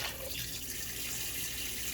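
Tap water runs steadily onto raw chicken in a kitchen sink, a close, continuous splashing hiss without talk.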